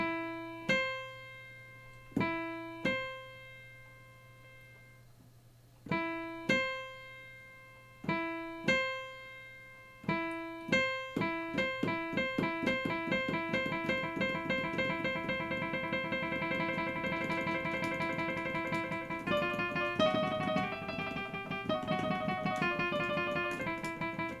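Solo honky-tonk piano playing slow, halting beginner trills: separate pairs of notes struck apart at first, then a steadier but still unhurried alternation that keeps ringing.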